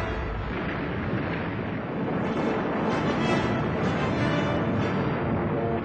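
The battleship Arizona exploding at Pearl Harbor gives a dense, continuous roaring rumble, loud and sustained like a blast or eruption with no break or clear onset.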